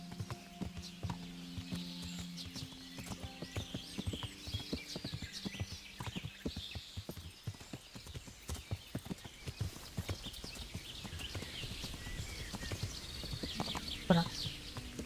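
Horse hooves clip-clop steadily on a road in the medieval video game Kingdom Come: Deliverance, a rapid rhythmic run of hoofbeats with faint birdsong and occasional game sounds behind them.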